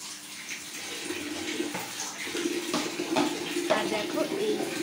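Water splashes and pours in a home bath while a child is washed after soap and shampoo, a continuous wet rush with small splashes throughout, close by, with a voice talking faintly underneath.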